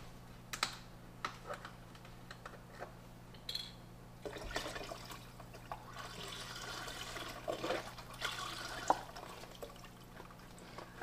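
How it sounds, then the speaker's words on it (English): Broth pours into a soup pot for chicken and rice soup in a home kitchen, a gurgling liquid splash rising in bursts over a steady low hum, with small clinks scattered between the pours. "Alright, we've added all the broth."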